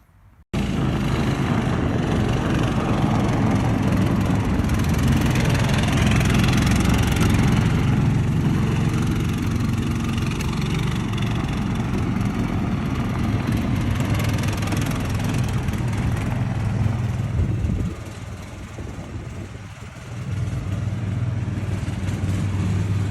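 A 1970s Argo all-terrain vehicle engine runs steadily at close range, a loud continuous rumbling drone that dips briefly near the end before picking back up.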